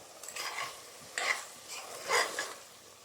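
A spoon scrapes and stirs mushrooms cooking in a pan with masala for mushroom biryani, with a soft sizzle and a few close scraping strokes and no talking.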